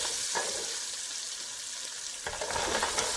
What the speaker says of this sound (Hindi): अब हम मिर्च ऐड करेंगे, अच्छी तरह से इसको फ्राई करेंगे।